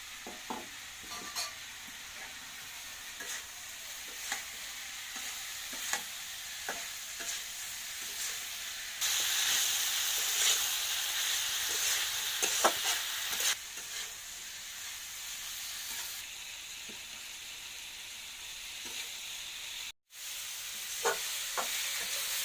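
Cauliflower, beans, chopped tomato and green chilli sauté in a hot pan, with a continuous sizzle that surges louder partway through and is marked by regular spatula scrapes and taps, close and without talk.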